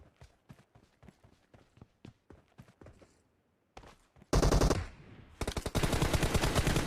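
Rapid gunfire from an arena shooter video game: bursts of closely spaced shots at first, then a brief pause before much louder, dense continuous firing fills the rest.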